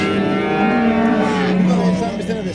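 Cattle lowing at a busy livestock market in Afyon, Turkey, one loud, close, drawn-out moo over a noisy crowd with people talking.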